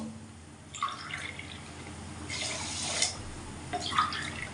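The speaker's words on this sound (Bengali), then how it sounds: "তিন কাপ জল দিলাম" Water poured from a cup onto sugar in a pan for chhena jalebi syrup, heard as three short splashing, trickling bursts separated by quieter pauses, close and moderately loud.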